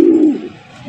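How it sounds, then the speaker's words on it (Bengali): A single close pigeon coo at a pigeon market selling fancy breeds, one loud low rolling call that fades out within a second. "এখানে রয়েছে চমৎকার একটা কালারিং রাসগোল্লা কবুতরের কালেকশন দেখতে পাচ্ছেন"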